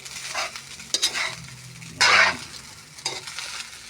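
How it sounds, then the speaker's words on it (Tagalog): Fried corn rice is stirred in a frying pan over low heat, a spatula scraping in short bursts against the pan with a soft sizzle underneath, one louder, longer scrape midway, no talking. "Paikot-ikutin mo sa kawali."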